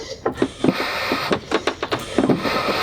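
A manual oil extractor is hand-pumped to build vacuum on a boat under refit, giving a series of rhythmic squeaky strokes and hisses, close and moderately loud over a steady background hum.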